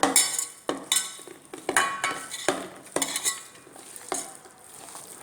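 A spoon stirs chicken and spices together in a bowl, making repeated scraping and clinking strokes in a steady rhythm, close and fairly loud with no talking.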